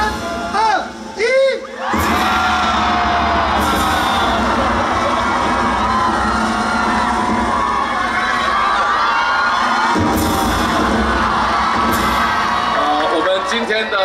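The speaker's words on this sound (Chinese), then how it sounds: "大声的尖叫" At an outdoor election campaign rally in a Taipei park, a large crowd erupts into sustained loud screaming and cheering for over ten seconds, after a brief voice over a microphone.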